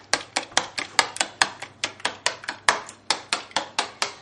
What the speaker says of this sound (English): and the small mixing bowl, and you're going to start mixing